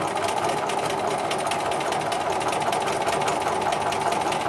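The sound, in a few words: sewing machine quilting a vertical line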